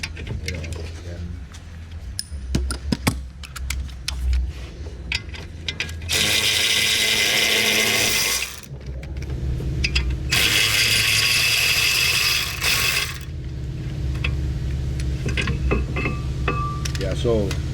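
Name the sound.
breaking loose brake caliper bolts on Tesla Model X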